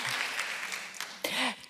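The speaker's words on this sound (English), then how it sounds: "That's people applauding you, Isabel." An audience at a talk by author Isabel Allende at the All About Women 2021 event claps briefly, a short burst of applause with a voice speaking over it.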